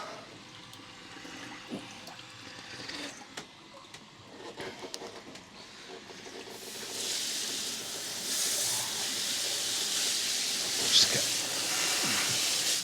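Water spray washing residue off the bottom of a pump on a DIY sports cruiser boat, a steady broadband hiss that grows louder and more constant in the second half, with a pump running in the background.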